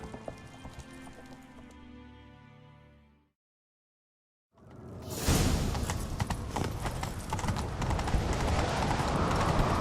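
Galloping horse hooves in the video game The Witcher 3: Wild Hunt clatter in a quick, steady rhythm after a brief silence, loud and close, with a rushing wash of motion over them.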